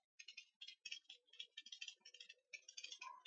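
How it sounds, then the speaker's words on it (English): A Motherpeace tarot deck being shuffled by hand, giving close, quiet bursts of papery riffling and soft card clicks in short repeated runs, with no talking. "shuffling with this is not fun"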